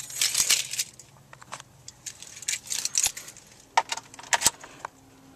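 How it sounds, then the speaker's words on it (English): Keys for a 2012 Honda Civic Si jangling close by as they are pulled out, bright metallic rattles and chinks in irregular bursts over a quiet background. "Let me get the keys out and I will turn it on for you."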